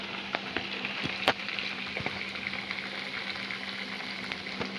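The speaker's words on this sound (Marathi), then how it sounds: "आता वडे मी सर्व हे तळून घेते" Sabudana potato vadas deep fry in hot oil, making a soft, steady sizzle with scattered pops and crackles and no voices.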